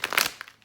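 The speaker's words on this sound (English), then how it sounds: "let's go ahead and I'll do quick shuffle for the Romance Angel" Oracle card deck given a quick shuffle during a pick-a-card tarot reading: a short, soft burst of papery riffling and crinkling lasting under a second, close and fairly quiet.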